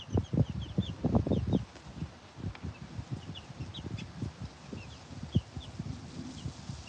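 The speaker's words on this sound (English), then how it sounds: "I'm watching chickens." Bantam chicks and chickens out on their first day, a busy close mix of soft clucks, scratching and quick high peeps scattered throughout.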